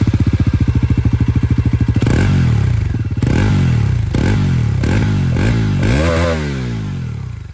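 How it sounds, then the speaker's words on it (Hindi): Exhaust note of a Bajaj Pulsar NS400Z: a loud, close, pulsing idle, then a series of sharp throttle blips that rise and fall in pitch, ending with a longer rev that tapers off. "अगर मैं आप लोगों को यहाँ पर एग्जॉस्ट साउंड सुनाऊँ, तो एक बार ये भी आप लोग सुन लीजिए।"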